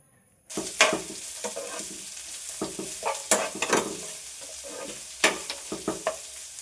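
Thinly sliced onion frying in a pan with chillies and curry leaves, a steady sizzle broken by repeated sharp scrapes and clatters of stirring, close and fairly loud, with no talking.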